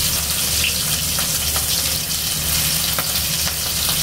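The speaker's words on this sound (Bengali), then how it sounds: "তো আমি ডিম সবগুলো দিয়ে নিছি, একটু ভাজা ভাজা হইলে নামিয়ে নেব।" Eggs frying in a pan, a loud, dense, continuous sizzle heard up close with a few faint clicks.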